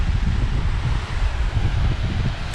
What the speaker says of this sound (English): It's a little breezy right here by the lake.